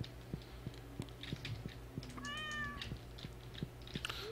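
A cat meows once in the farming video game Stardew Valley, a short rising-falling cry in the middle, over steady game music with regular soft clicks like keyboard typing.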